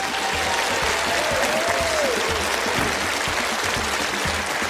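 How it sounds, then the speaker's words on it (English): Steady, dense applause from a theater audience at a magic show fills the space continuously, with a brief whistle rising over it. "Big applause for him."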